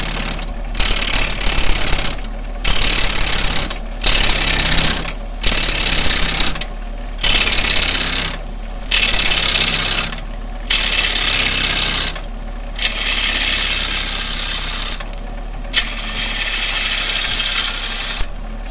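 A wood lathe spinning at 600 rpm under a bowl gouge, a loud steady mechanical drone cut into repeated bursts by short regular pauses, no talking.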